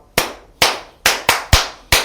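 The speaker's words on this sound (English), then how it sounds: "don't clap like that. Just clap." Six sharp, separate hand claps in a classroom, each crisp slap decaying quickly, in an uneven rhythm with short pauses between them.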